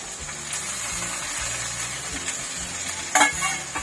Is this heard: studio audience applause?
no